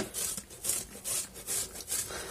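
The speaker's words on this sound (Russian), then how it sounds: "Натираем на терке. Получается меленько." Sausage is rubbed back and forth across a grater in a kitchen, giving about five rhythmic rasping strokes, close and fairly quiet, with no talking.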